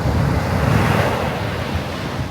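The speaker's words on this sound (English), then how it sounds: "It's those crashing waves that make people happy to call Delaware home" Ocean waves crash on the Delaware shore in a loud, continuous roar of surf with wind noise buffeting the microphone, steady throughout and with no talking.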